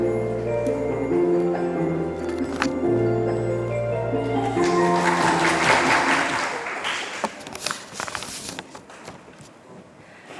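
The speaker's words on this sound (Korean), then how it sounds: "큰 박수로 맞아주시기 바랍니다." An audience applauds to welcome a middle-school student speaker to a climate change speech contest. Sustained clapping swells over an opening stretch of sustained music, then continues on its own, loud and dense.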